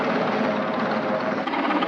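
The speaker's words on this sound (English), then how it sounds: "You can hear the helicopter." A helicopter flies over a boardwalk, its steady, dense rotor and engine roar filling the whole stretch at a fairly close, even loudness with no talking.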